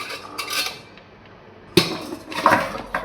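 Pots, pans and dishes clatter in a home kitchen during washing, in a few sharp metallic clanks and rattling bursts separated by quieter pauses.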